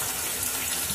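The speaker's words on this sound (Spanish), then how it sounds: "yo lavo los fideos" Water running from a tap while cooked noodles are rinsed, a steady, close, full splashing stream with no pauses.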